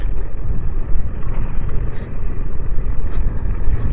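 A vehicle labours along a badly damaged, rough road near stone quarries in Pudukottai, its engine a loud, close, continuous low rumble that fluctuates as it bumps along.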